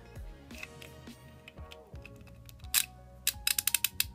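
Clicks from a Kincrome socket set being fitted and turned on a ratchet handle, with clustered mechanical ticks and a fast burst of sharp clicks near the end, close and alone.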